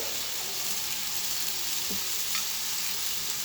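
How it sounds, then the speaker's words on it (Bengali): Onions fry to golden in a pan with a steady, even hiss, broken by a single faint scrape of a spoon and no talking. "পেঁয়াজটা আমি একটু গোল্ডেন কালার করে ভাজি করে নেব"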